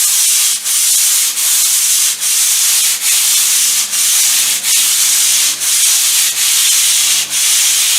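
A small stiff brush fixed to the end of a stick scrubs tile grout in about ten steady back-and-forth strokes. The rasping is loud and close, with a low background hum and no talking.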